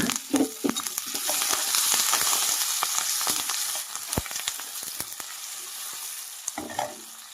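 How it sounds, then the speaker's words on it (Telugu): Onions, green chillies, tomatoes and curry leaves sizzle steadily in a pan, with a spoon repeatedly scraping and clinking as the mix is stirred; the frying hiss stays close and continuous throughout, with no talking. "ఉల్లిపాయలు బాగా ఫ్రై అయిపోయి అలానే రెండు పచ్చిమిర్చాను టమాటాలు కూడా వేసేసుకున్నాం"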